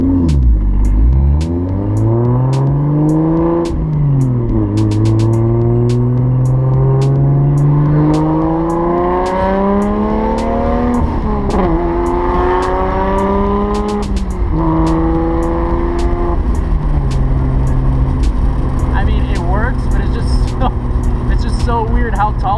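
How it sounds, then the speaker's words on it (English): A car fitted with an R154 short shifter pulls hard through the gears on the road, engine revs climbing and falling with each shift, loud and close from inside the cabin. "I'll do a little pull, see how it feels going through the gears"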